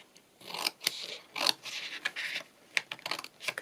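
Scissors snipping carefully through a handmade cottage-style journal cover, a series of close, crisp cuts with small rustles of paper in between, no voices.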